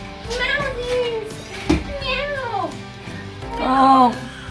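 Several loud, close meows from young cats in a quarantine room for unvaccinated kittens, three drawn-out cries spaced across the clip with a brief knock between them.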